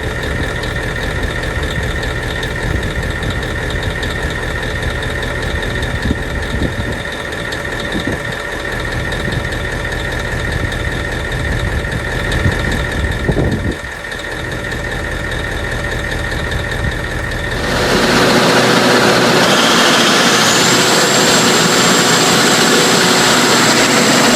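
A Caterpillar 3516 quad-turbo V16 marine diesel engine runs loudly and continuously, a deep droning rumble with a steady whine, shifting into a brighter, harsher roar for the final stretch.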